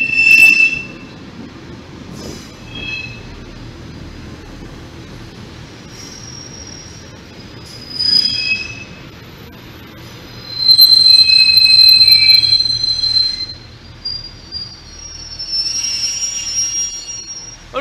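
A Class 88 locomotive rumbles past with high metallic wheel squeals rising and fading several times, loudest midway, with no voices.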